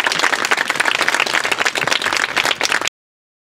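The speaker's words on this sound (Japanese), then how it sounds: "優秀な成績を収めた選手の皆さんにもう一度大きな拍手をお願いいたします。" A crowd at a youth baseball league championship award ceremony claps loudly and steadily for nearly three seconds, a dense burst of applause that stops abruptly.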